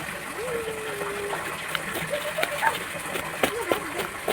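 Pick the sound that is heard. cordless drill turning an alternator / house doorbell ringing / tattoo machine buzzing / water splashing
water splashing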